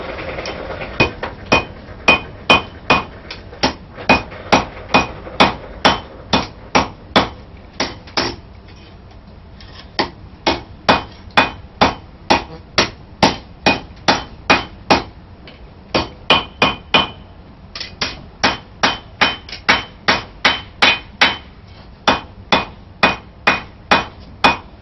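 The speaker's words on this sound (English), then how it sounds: "I'm not going to bore you too much with the hammering process because hammering it out is pretty simple stuff" Steady hammer blows ring out on hot steel being forged into a knife blade, dozens of sharp, evenly paced strikes close by with a couple of brief pauses and no talking.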